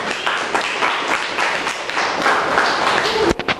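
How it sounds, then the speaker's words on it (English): Classroom audience applauds a group after a speaking presentation, a continuous patter of many hands with scattered voices and a few thumps, ending in some brief sharp knocks. "give them a round of applause"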